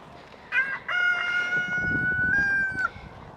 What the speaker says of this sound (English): there's one rooster still out.